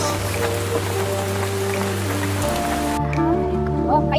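Steady rain patters across the whole stretch, a dense hiss of drops with a low background hum that shifts partway through.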